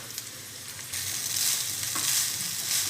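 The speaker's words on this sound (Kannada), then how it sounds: "ಚೆನ್ನಾಗಿ ಮಿಕ್ಸ್ ಮಾಡ್ಕೊಳ್ತಾ ಇದ್ದೀನಿ" Vermicelli pulao with beans and mixed vegetables is stirred in a pan: a soft, steady sizzle swells after a quiet start, with light scraping over it.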